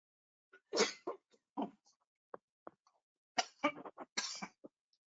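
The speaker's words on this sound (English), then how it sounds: "I'm having a coughing fit here" A run of repeated coughs during a climate-change and carbon-verification webinar, breaking out in clustered bursts with short pauses between them, close and fairly loud, with no talking over them.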